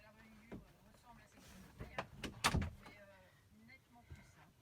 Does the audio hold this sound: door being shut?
yes